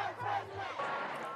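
Street protest crowd in New York cheering and shouting as an effigy of the president-elect burns, a dense mass of voices swelling for a moment.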